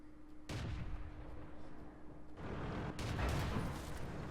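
A tank cannon fires shells in World of Tanks: several heavy, booming shots ring out over a low engine rumble.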